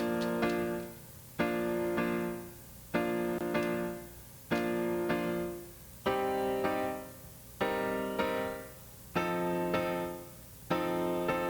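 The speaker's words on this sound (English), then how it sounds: "We have that really compressed piano sound." A heavily compressed, harsh and poppy piano sound from an FL Studio beat plays repeated chords in short rhythmic bursts. Each chord sustains briefly before it cuts off.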